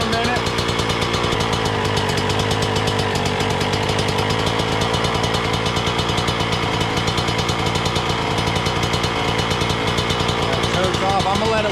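A Suzuki RM125 two-stroke dirt bike engine idles while warming up with the choke off, a loud, close, continuous rapid popping rattle that holds steady throughout.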